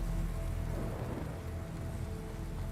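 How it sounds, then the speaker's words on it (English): Steady, heavy rain pours down without a break in the video game Metal Gear Rising: Revengeance, a dense hiss of drops on a surface. "Why is it gotta be raining?"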